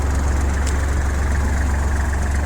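A Kubota GL-21 tractor with a front loader idling up close, a steady, loud low diesel throb with an even mechanical hum and no change in pace for the whole stretch.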